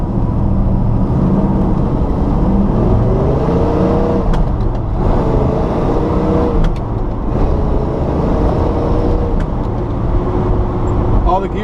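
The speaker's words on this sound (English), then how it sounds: "All the gears shifted smoothly. Did about 60 miles per hour right there, so she wants to get up and move pretty well." A 1970 Chevrolet Chevelle SS accelerating hard on the road, its engine roaring and rising through several smooth gear shifts, loud and close with road noise and a voice speaking over it.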